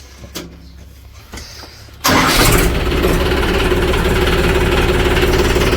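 A tractor engine cranks and catches with a sudden loud roar, then settles into a steady, rumbling idle after a few quiet clicks and knocks.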